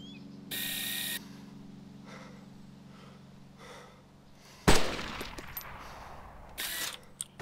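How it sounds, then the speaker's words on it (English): Gunfire in the DayZ Epoch video game, a loud sharp shot with a ringing tail midway, preceded and followed by brief bursts of noise and faint game ambience. "Oh, shit, he's shooting."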